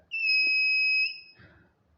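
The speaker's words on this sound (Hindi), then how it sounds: "दोस्तों जैसे ही हम इसके पास में कोई मेटल लेकर आते हैं, यहाँ पर बजर का साउंड स्टार्ट हो जाता है" Metal detector circuit with a buzzer, triggered when metal is brought near: a steady two-tone electronic beep holds for about a second at close range, then cuts off, followed by faint low handling noise.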